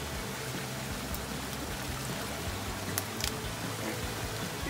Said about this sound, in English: Dude, I just made a waterfall.